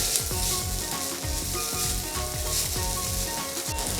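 Ginger and homemade sambal paste sizzle steadily in a hot pan for a vegan Asian-style rice dish. The frying is constant and close, with occasional stirring and no voices.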